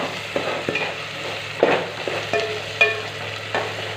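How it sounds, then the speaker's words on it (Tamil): Onions and tomatoes sautéing in a pan for a Sunday fish kuzhambu curry, with a steady soft sizzle broken by several sharp scraping stirs of a spoon against the pan, close up and with no talking. "அப்படியே கொஞ்சம் நேரம் வதங்க விட்டுக்கலாம்."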